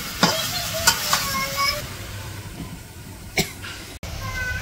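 Crushed garlic hits hot oil in a pan in a Bangladeshi village kitchen while kachu loti cooks. A steady sizzle runs throughout, with a few sharp clanks of stirring and a brief cough.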